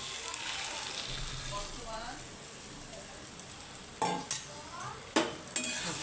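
Beaten egg and potato stirred in a pan over a gas flame for bhujia, soft frying under quiet talk, then several clanks of a spatula against the pan.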